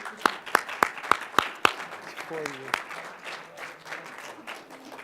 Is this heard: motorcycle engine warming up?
no